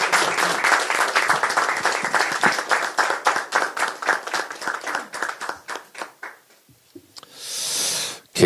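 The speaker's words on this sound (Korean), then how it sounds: "여러분 큰 응원의 박수를 부탁드립니다" A crowd at a political rally in Korea applauds strongly, with dense rhythmic clapping that fades out over about six seconds. A short burst of noise follows near the end.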